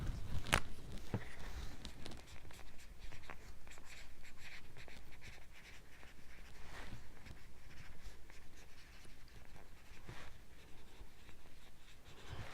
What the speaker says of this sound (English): Actually, I will write on it first.